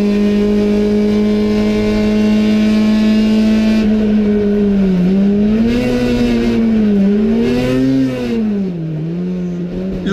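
Onboard Valerio Tenaglia's race car on track, a loud close engine drone holding a steady pitch, then rising and falling as the driver lifts and accelerates through corners.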